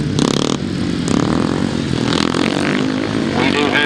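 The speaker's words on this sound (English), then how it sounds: "Into the last turn for the last time and winding up that throttle." A 600cc grasstrack racing motorcycle revs hard into the last turn, a loud, close engine snarl rising and falling with the throttle while an announcer's voice runs over it.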